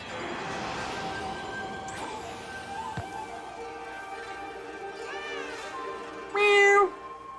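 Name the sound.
cat meowing in video game Okami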